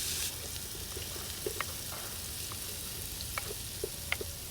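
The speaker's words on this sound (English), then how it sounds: "in the pan, a nice amount of extra virgin olive oil. And you go straight in with the onions." Chopped onions frying in extra virgin olive oil in a pan, a steady soft sizzle with a few small pops and crackles, no voices.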